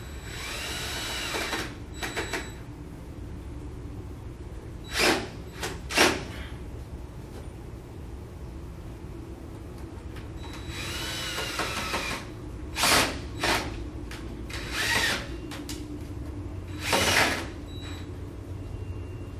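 A power drill drives 2.5-inch stainless steel screws downward through a transom unit into a door frame, in several short whirring bursts separated by quiet pauses, close and moderately loud.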